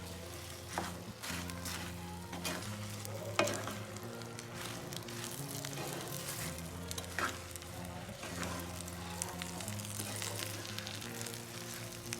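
Sukhdi mixture with dates stirred in a pan, a steady soft sizzle with scraping and stirring strokes running throughout at close range, no voices.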